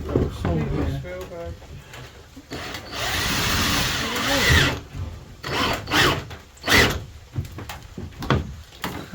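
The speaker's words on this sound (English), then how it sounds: "I'm going to drill a hole here." Power drill boring a hole through metal and plastic during roof insulation work in a campervan conversion, a few short whirring bursts between knocks and handling clatter.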